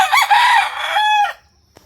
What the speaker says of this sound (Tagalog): Tumitilaok siya dahil meron siyang nakitang mga dalawang dalaga